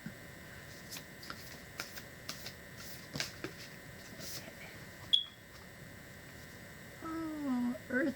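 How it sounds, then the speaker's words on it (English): An oracle deck of cards is shuffled and drawn, with soft, close riffling flicks in an irregular rhythm, a brief click, and then a short voice near the end. "Let me get another card."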